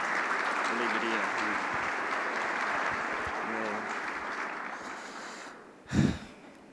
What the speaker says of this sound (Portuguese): Vamos saudá-lo com uma calorosa salva de palmas.